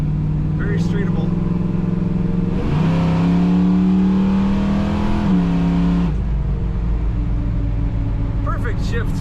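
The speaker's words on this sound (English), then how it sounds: "Perfect shifts for acceleration from this automatic transmission" A 1972 Chevrolet Camaro SS tuned for performance accelerates hard through its automatic transmission, engine note rising loud and close, a single clear upshift near the middle, then settling back to a steady rumble.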